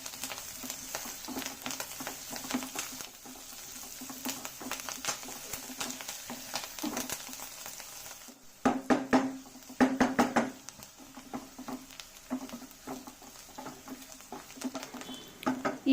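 Onions frying in a pan with turmeric powder for an egg masala, giving a steady close-up crackling sizzle with soft irregular patter and a few stirring knocks, busier in the middle stretch.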